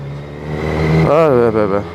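A Kawasaki Z900 motorcycle engine being throttled up, a steady loud tone that jumps into a rising, wavering rev partway through and then swells again.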